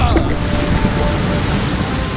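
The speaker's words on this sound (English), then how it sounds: "The water stood up so they could pass" River water parts in a loud surge, rushing waves roaring steadily and close for the whole moment with no other sounds breaking through.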